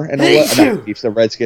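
A man lets out a single loud, forceful sneeze during a casual NFL conversation, and speech follows immediately after it.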